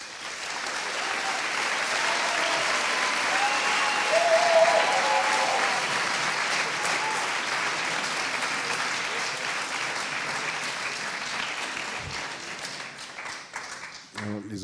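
Audience at a town debate on an asylum-seekers' centre in Nyon applauding steadily for many seconds, a dense wash of clapping that fades slightly toward the end.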